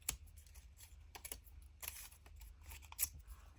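Paper being crumpled and ripped by hand while prepping a Halloween junk journal, a quiet close-up of several short crackling and tearing bursts spaced irregularly, with no talking.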